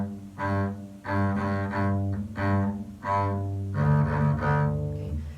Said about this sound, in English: Rather, kind of a shorter, poppier sound